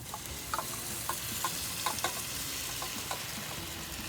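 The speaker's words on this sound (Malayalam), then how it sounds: "സോ നമ്മുടെ ഷ്രിംപ് ഇവിടെ നമ്മൾ ഇട്ട് കൊടുക്കുകയാണ്" Raw shrimp frying in a Kerala-style masala, a steady close sizzle with scattered light clicks of a spoon against the pan, no voices.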